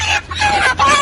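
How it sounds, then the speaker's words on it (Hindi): Poultry clucking in a Lohmann Black male chicken farm, a loud, dense chorus of many birds close by with overlapping calls. "ये आसिफ भाई हैं, ये कह लें कि माशाल्लाह इन्होंने मुर्गा सारा लोड कर लिया"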